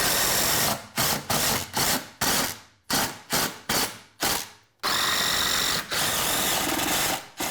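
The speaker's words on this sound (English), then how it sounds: "I'll do one screw down into the sill, but I actually have a stud right here, so I'll actually do one into the stud." A power drill drives a screw down into a wooden sill and stud on a scrap-wood workbench build, whirring loudly and close in a string of short bursts before a longer continuous run.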